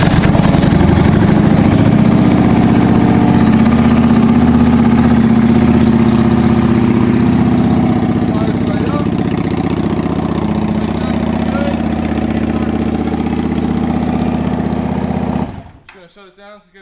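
A carbureted 2003 Yamaha V Star 650 motorcycle idles steadily and loudly up close, its low rumble continuing until the engine is switched off near the end, leaving quiet.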